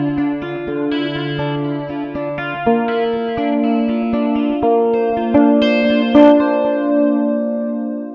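An Aklot Metal X electric guitar played through a clean amp rig: a bright, sustained run of single notes and shifting chords, up close and ringing, with no voices.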